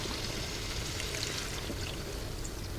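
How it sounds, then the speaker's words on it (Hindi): Water poured into a pot of potatoes and chicken cooking in mustard oil for a Pakistani curry, a steady, close splashing stream running continuously with no talk. "अब हम इसमें डालेंगे आलू गलाने के लिए थोड़ा सा पानी"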